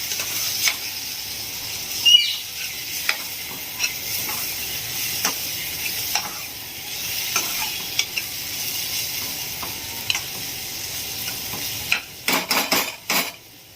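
A spoon stirs a tomato and spice masala in a sizzling pan, the frying hiss steady underneath while the utensil scrapes and taps the pan at intervals, ending in a quick cluster of clinks.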